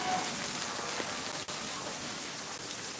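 Raindrops patter steadily at night in a close, even wash of rain noise, with no one speaking.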